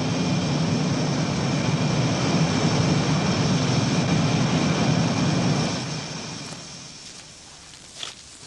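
A military jet aircraft returning to base roars loudly with a broad, steady rumble that fades away over the last few seconds, leaving a faint thin whine.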